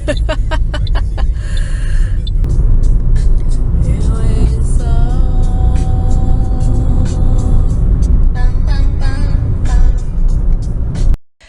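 A car drives along an open road, its engine and tyre roar loud and continuous from inside for about eleven seconds before cutting off abruptly.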